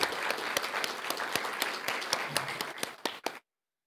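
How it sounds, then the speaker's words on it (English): Audience applause for a speaker at a Japan–Central and Eastern Europe cooperation event: dense, steady clapping from a crowd that holds for about three seconds, thins to a few last claps and stops abruptly. "Please give a warm round of applause for Mr."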